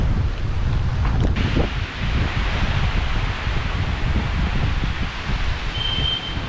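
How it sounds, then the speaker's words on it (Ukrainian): Strong morning wind in Rishikesh, India roars and buffets the microphone in a constant low rumble, with a faint rustle and no voices. "Вітер сильний."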